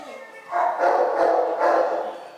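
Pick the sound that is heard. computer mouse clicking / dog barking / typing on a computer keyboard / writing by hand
dog barking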